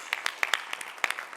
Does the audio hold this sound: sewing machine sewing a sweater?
no